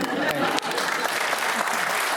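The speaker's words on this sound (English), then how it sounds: "I think we should proudly clap at that." An audience at a Q+A panel breaks into applause, brisk, fairly close clapping with a slight dip early on, continuing steadily for a couple of seconds with a little speech mixed in.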